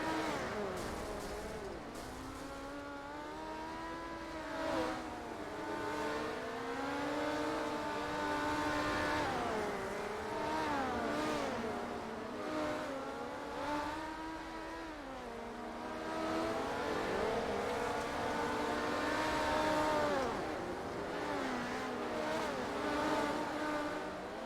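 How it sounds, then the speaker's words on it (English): Several race cars circle a dirt track at a POWRi event near Tulsa, their engines revving and whining as they rise and fall in pitch, with repeated surges as cars pass at a moderate distance. "So cars are back on track."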